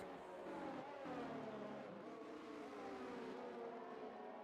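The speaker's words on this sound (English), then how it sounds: "now the safety car has already presented itself out on the track" Steady engine drone of the safety car out on track in the racing game F1 23 at Zandvoort, a continuous mid-pitched hum with shifting tones and no letup across the whole stretch.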